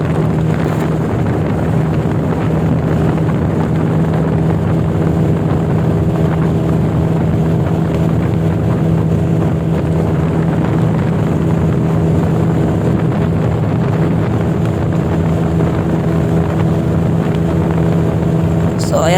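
A stock-looking Yamaha NMAX scooter being ridden flat out for a top-speed run, giving a loud, steady engine drone with a constant tone and wind rush that never lets up.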